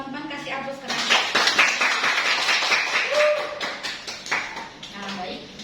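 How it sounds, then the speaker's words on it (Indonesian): A classroom of students claps for a classmate: quick, close patters of handclaps mix with voices talking over them the whole time. "Teman-teman kasih aplaus keras."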